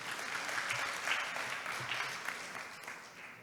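Applause from a disaster health management conference audience, a steady, even wash of clapping that tapers slightly at the end, heard from some distance and fairly quiet overall.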